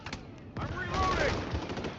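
Automatic gunfire in a shooter video game, a loud burst of rapid rounds with game effects that runs for about two seconds.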